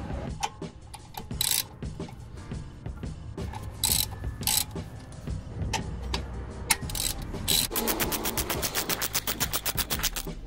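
Ratchet loosening number 7 Allen bolts on the front brake caliper of an Alfa Romeo Giulietta, giving quick repeated clicking bursts with pauses, then a faster continuous run of clicks near the end, close up with no talk.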